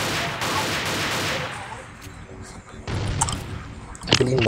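Rapid bursts of video game gunfire crackle in the first half, then scattered shots and clatter return near the end, with voices talking over it.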